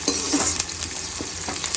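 Chillies frying and spluttering in a pan as they are stirred, a loud, steady, close sizzle with crackling pops and scraping throughout.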